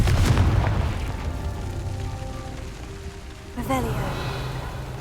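A Confringo fire spell bursts in Hogwarts Legacy, a loud booming blast at the start that decays into a rumbling tail, followed by a second sharper impact near the end.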